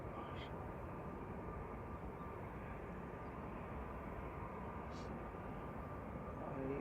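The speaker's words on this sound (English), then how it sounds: "Ryanair about to land, I think." A Ryanair airliner approaching to land at Manchester Airport gives a steady, broad jet roar that holds level throughout and swells slightly at the end, heard from a distance outdoors.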